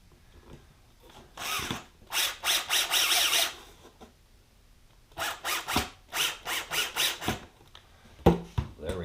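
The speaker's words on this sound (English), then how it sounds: "Now let's go ahead and put a screw in it." A screw driven into a wall anchor set in RV wall paneling, heard as two clear bursts of ratcheting, grinding turns separated by a pause, close and fairly loud with no talking.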